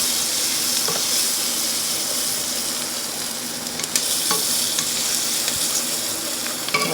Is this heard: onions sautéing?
yes